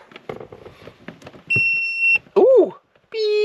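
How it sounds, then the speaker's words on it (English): An Xtool A30M automotive diagnostic scanner beeps right after a stretch of talk: a long steady tone, a short warbling chirp, then another sustained tone, all loud and close. "Oh, beep. You hear that?"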